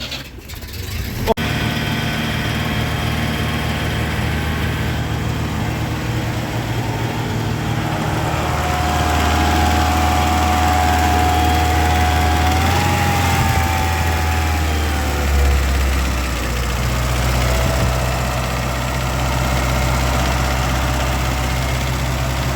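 A GAZ-24 sedan engine, running on gas fuel, starts with a brief crank and then settles into a steady, close idle, its low throbbing hum holding even for about twenty seconds with a slight shift in pitch midway.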